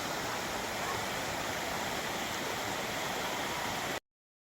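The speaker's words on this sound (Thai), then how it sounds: "สูงสุดก็จะเห็นน้ำตกตกไหลลงมาตามโขดหินนะครับ" Steady, dense rushing of a waterfall flowing down over rocks, a continuous broadband roar that cuts off abruptly near the end.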